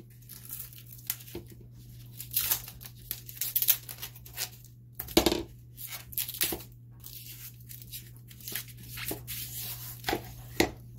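Tape on a boffer sword gives repeated crinkling, tearing and rubbing sounds as it is pulled and smoothed in irregular bursts over a faint steady hum.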